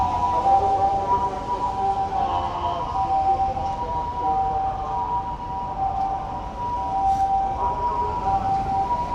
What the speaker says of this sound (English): The way that the ambulance sound echoes with the skyscrapers around,